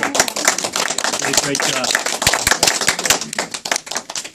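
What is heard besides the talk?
audience applause for the committee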